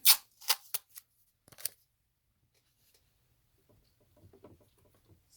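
Tape pulled off a roll and pressed down onto fabric while sewing a double-zip splash bag: a few sharp ripping bursts in the first two seconds, followed by faint soft handling and rustling.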